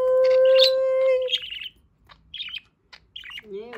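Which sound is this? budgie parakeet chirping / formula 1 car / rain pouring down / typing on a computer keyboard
budgie parakeet chirping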